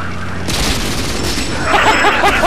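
Artillery shelling in a tank video game: a heavy boom hits at half a second, followed by rolling rumble and crackling, with a bright burst of radio-like chatter near the end.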